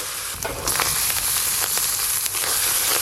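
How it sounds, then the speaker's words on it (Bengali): Ginger and green chilli paste fries with onions in a hot pan, giving a continuous close sizzle with faint crackles throughout. "এবার আদা কাঁচা লঙ্কা বাটাটা দিয়ে দেবো"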